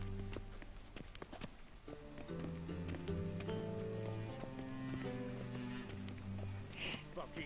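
A horse's hooves clip-clopping in The Witcher 3, with steady footfalls under a voice, close and fairly loud over the game's ambient sound.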